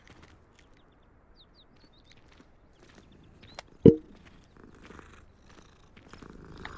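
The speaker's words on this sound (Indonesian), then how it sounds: "Ada kucing." A soft cat purr from a cat in Hogwarts Legacy, faint and low under quiet game ambience, with one brief loud thump in the middle.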